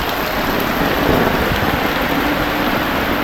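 Heavy, steady rain pouring down in a dense, continuous roar with no pauses, close and loud throughout, as floodwater overflows the street.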